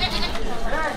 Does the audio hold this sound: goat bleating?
yes